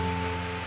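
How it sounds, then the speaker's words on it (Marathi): Steady monsoon rain falls at Ukshi railway station in the green Konkan region, a continuous close hiss with a few faint steady hum tones beneath it and no voices. "पाऊस पण आता आलेला आहे"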